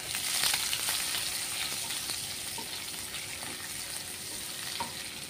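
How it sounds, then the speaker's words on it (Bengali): Sliced onions fry in oil in a pan for dim kalia egg curry, giving a steady close sizzle with faint crackles and occasional light stirring sounds, with no voices. "দিয়ে পেঁয়াজটাকে এখন একটু ভেজে নেব।"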